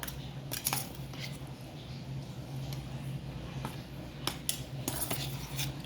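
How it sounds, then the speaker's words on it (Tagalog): Buko salad with cheese being stirred in a bowl, a steady scrape of utensil against the dish with occasional brighter clinks, close and continuous. "hinahalo na namin yung aming boko salad"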